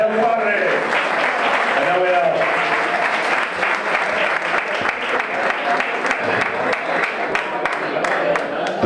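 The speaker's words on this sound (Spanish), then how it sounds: "Un aplauso por el señor Padre" An audience at a flamenco club in San Pedro Alcántara breaks into loud, sustained applause, with voices and shouts mixed into the clapping throughout.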